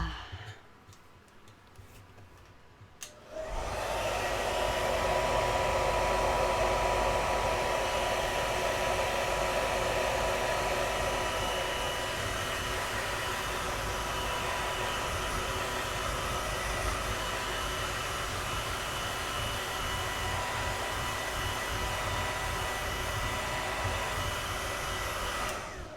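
A hair dryer drying ink artwork switches on after a few seconds of quiet and blows steadily, a loud continuous whooshing roar with a faint motor whine, running to the end.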